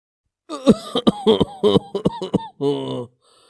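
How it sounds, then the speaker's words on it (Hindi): An old man's rough, voiced coughing in a series of short bursts, close and loud, ending with a longer wheezy rasp. "एक बूढ़ा आदमी लकड़ी के सहारे खांसते हुए आता है"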